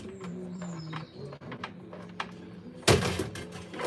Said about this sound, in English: Let's get that dryer going.